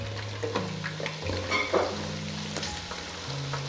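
Steady crackling sizzle of chicken feet frying in hot oil, with a few sharper pops and a low hum of music underneath.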